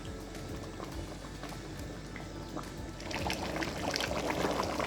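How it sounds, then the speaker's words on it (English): Edo black soup boiling in a pot on the stove, a steady bubbling simmer that grows louder and more active toward the end, with no talk. "Just leave it, let it boil for 2 minutes."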